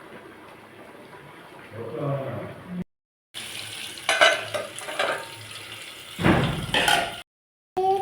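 Chicken goes into hot oil with a crackling sizzle that starts and stops as pieces are stirred and moved in the pan, close up and moderately loud, with brief silent gaps.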